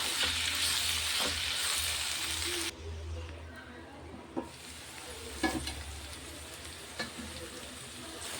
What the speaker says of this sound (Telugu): కలిపి ఒక ఫైవ్ మినిట్స్ మగ్గనిస్తే సరిపోతుందండి